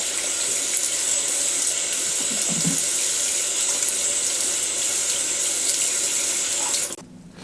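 Water running from a bathroom sink faucet, a steady loud hiss and splash that holds evenly for several seconds before cutting off abruptly.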